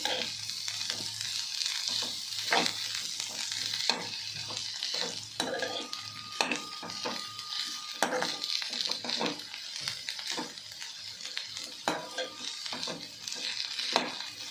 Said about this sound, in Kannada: ಅಷ್ಟು ಚೆನ್ನಾಗಿ ಎಣ್ಣೆಯಲ್ಲಿ ಫ್ರೈ ಆಗಬೇಕು ಹಾಗಲಕಾಯಿ